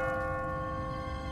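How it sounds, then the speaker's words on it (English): A church bell rings in a deserted city in The Walking Dead video game. It is a steady, sustained metallic tone with rich overtones, heard alone without talk. "What kind of church bell goes off at 20 past the hour?"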